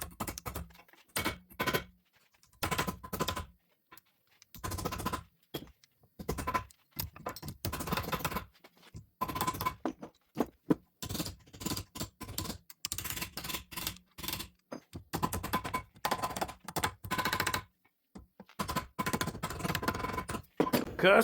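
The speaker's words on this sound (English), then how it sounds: "I'm just going to hammer my shape in" A hammer strikes a small aluminum piece clamped in a vise, shaping it for a truck hitch fitting. The sharp metallic knocks are close and fairly loud, coming in quick irregular bursts with short gaps between them, and no voices are heard.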